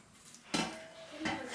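The heavy lid of a pot of prawn dum biryani is lifted and set down with two close, quick metallic clanks against a quiet background; no talking.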